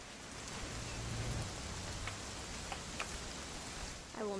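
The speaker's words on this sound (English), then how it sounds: "It's gonna rain the whole weekend, isn't it?" Steady rain hisses across the whole stretch in the video game What Remains of Edith Finch, a dense even wash of drops with a few faint ticks and a brief tonal chirp near the end.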